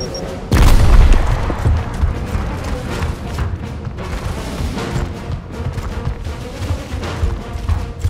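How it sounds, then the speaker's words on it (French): A heavy in-game explosion in Gears of War bursts with a loud, deep boom, followed by lingering rumbling debris and scattered combat noise. "Gare à l'explosion!"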